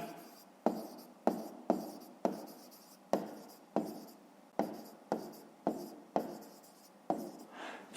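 Pen strokes scratch across paper in a Ukrainian fifth-grade maths lesson, a quiet, close run of about a dozen short brisk scribbles in an even rhythm, each starting sharply and fading.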